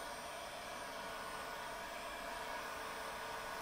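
A heat gun set to its lowest heat blows with a steady, even broadband whoosh, moderately loud and unbroken for the whole stretch, with no talking.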